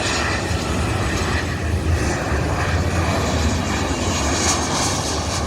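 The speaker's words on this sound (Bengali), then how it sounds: "আরেকটি ইউএস বাংলা এয়ারলাইন বিমানটি মডেল হচ্ছে বোয়িং সেভেন থ্রি সেভেন" Jet engines of a US-Bangla Airlines Boeing 737 at an airport produce a loud, steady broadband roar that holds evenly throughout with no speech.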